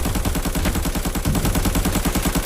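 Rapid, steady automatic gunfire from a tactical shooter video game, a dense rattling burst running continuously and loudly from start to end with no talk over it.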